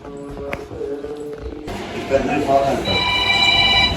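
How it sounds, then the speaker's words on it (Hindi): A telephone rings inside a home where a sofa-cum-bed has just been set up, a steady electronic tone running under household noise and people talking nearby. "फिर से फोन आ गया।"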